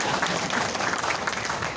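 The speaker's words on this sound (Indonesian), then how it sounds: "Tepuk tangan untuk saya." Brief applause from an audience at a district development planning meeting in Blimbing Sari, a short burst of steady clapping heard close and fairly loud.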